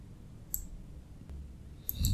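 Two crisp computer mouse clicks, one single and a quick double a moment later, while working through a NAS setup in a virtual machine; close, moderately loud, with no talking.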